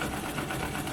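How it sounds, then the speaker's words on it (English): White rotary sewing machine running for free motion quilting, a steady close mechanical whir with a rapid fine rhythm, heard briefly and alone. "thought you might like to see how the white machine is working out for Motion Quilting."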